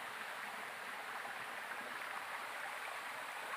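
A waterfall and stream rush in a steady, dense, unbroken roar of flowing water, fairly close, with no voices over it.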